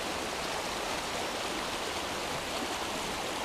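A river flows past its bank on a rainy day, a steady, full broadband rush of moving water that holds at the same level throughout with no voices.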